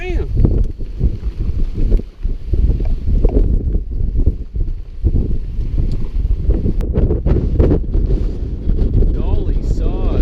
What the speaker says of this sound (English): It's a touch windy.